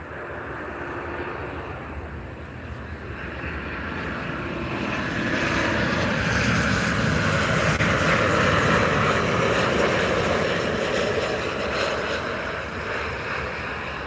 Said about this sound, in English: Max 8 from Orlando coming in right now.